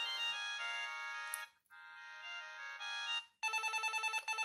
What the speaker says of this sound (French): On a des sonneries horribles.